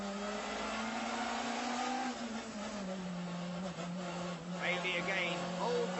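Racing car engine on a circuit, holding a steady drone as it shifts up through the gears out of a chicane, with a commentator talking over it throughout.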